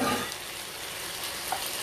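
Shrimp go into a hot pan, starting with a loud burst of frying then a steady close hiss and crackle that holds evenly through the short moment.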